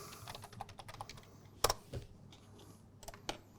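Keys clatter on a Sony MLS-X1 keyboard as a search term is typed, a short burst of light, close clicks at an uneven rhythm with a couple of sharper taps.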